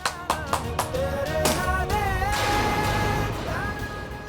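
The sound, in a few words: people clapping hands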